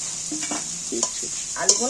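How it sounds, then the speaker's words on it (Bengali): Fried potatoes are stirred into a sizzling spice paste for fish roe curry, with a steady frying hiss under a few close spatula scrapes and clinks; no talking. "একটু নেড়ে চেড়ে কষিয়ে নিচ্ছি"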